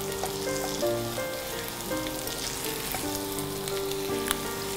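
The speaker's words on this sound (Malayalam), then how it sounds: "ഇത് നന്നായിട്ടൊന്ന് ഇളക്കുക." Steamed kozhukkatta, small quail-egg-sized rice dumplings, being stirred in sizzling masala in a pan, with a steady frying hiss and soft scraping strokes throughout, no voices.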